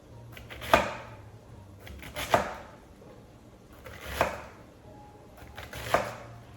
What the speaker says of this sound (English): I just slice my celery, the whole bunch of it.